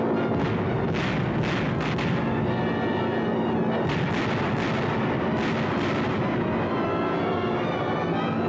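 Bombs from a B-24 bombing raid explode in a dense, continuous roar of heavy rumbling blasts, with repeated booming bursts layered over a loud, sustained low din.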